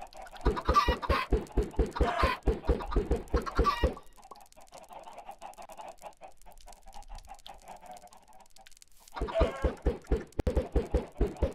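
Many Minecraft chickens cluck in rapid rhythmic bursts, a loud flurry at the start, then a quieter stretch of softer game sounds before another burst of clucking near the end.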